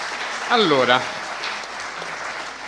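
Audience applause at a lecture event in Venice, a steady broad wash of clapping running throughout under a voice that speaks briefly near the start.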